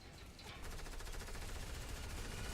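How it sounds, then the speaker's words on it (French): Rapid automatic gunfire in a shooting video game, with dense rattling bursts that build up and continue steadily at a moderate, somewhat distant level. "Donc là, on tue l'ennemi. En même temps, on tire."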